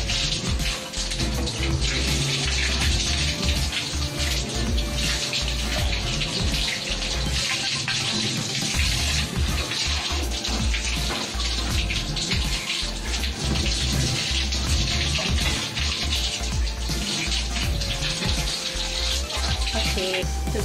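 Water running steadily from a tap while parts of a Coway Storm air purifier are washed, a loud continuous splashing gush with shifting tones as the parts move under the stream.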